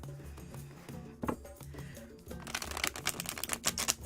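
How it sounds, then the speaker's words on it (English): Ripple shuffle of a tarot card deck: soft handling noises, then a quick fluttering burst of cards riffling together, close and crisp, with no voices. "a ripple shuffle to get the air through them."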